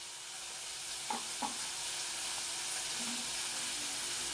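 Capsicum curry with curd, coriander powder, chilli powder and cumin powder frying in a pan, a constant bright sizzle with a couple of soft spoon knocks against the pan, close and steady.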